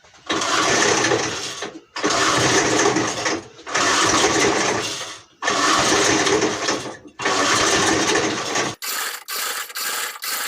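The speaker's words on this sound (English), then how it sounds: "Well, I've cranked it enough to where it should have started." Antique JC Penney push lawn mower engine cranked repeatedly by pull cord, five long loud rasping whirring pulls with brief gaps, then a few quicker shorter pulls, never catching.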